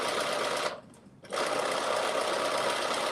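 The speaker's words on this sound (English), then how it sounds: "and then you're going to stitch a straight stitch" Sewing machine stitching a straight seam with a 5/8-inch seam allowance, a steady close whirring hum that briefly stops and then resumes.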